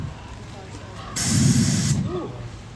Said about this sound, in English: I'm going to aim it at the ground 10 feet in front of me, straight for about 1 to 2 seconds here